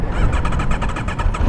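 A 2021 Aprilia RSV4 1100 with stock exhaust fires up outdoors on a windy day, the engine catching into a loud, throbbing, pulsing idle close by.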